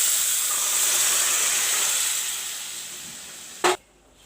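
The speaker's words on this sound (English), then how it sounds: "Now I am going to put in the matar, the peas which I have" Boiled peas dropped into hot browned masala in a pan, giving a loud sustained steam hiss that slowly fades, ending in a sharp brief clatter and then near silence.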